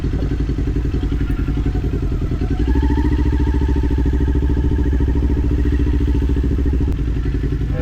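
A motorcycle rides on the Thruxton race circuit during advanced rider training, a steady close engine drone that deepens and strengthens partway through as the rider accelerates, then holds a continuous loud roar.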